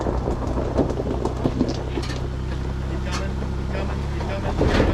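A Ford Bronco's engine rumbles steadily while the truck crawls over a trail obstacle, with a low continuous drone and scattered knocks and scrapes from the skid plate, and voices talking throughout.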